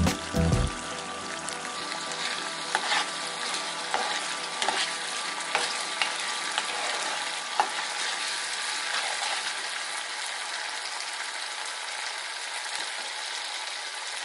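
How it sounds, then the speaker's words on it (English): Ingredients for Nigerian gizdodo stew, plantain and gizzard, fry in a pot with a steady, close sizzle throughout, plus a brief stirring clatter at the start and a few faint scrapes. No voices are heard. "so I have this going and it is going to fry for a while"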